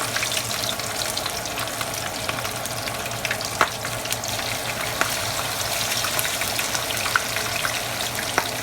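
Onions frying in hot oil for Jamaican yard-style fish: a steady, even sizzle with a constant crackling hiss and occasional small pops, no voices.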